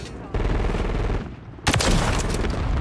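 Rapid automatic gunfire with an XRK Ballista in a shooter video game, a dense, loud, continuous stream of shots that grows heavier near the end, with no clear talk.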